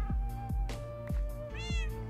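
Cats in Minecraft meow repeatedly, several short, close mews in quick succession with a higher-pitched cry near the end, over a soft background hum.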